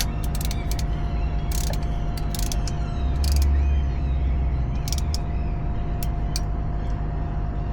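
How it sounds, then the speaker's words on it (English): A ratchet wrench tightens a bolt on a Volkswagen Vanagon in a parking lot, giving close, sharp, repeated clicks in irregular bursts over a steady low engine-like hum. "Now where did I hide the ratchet? There it is."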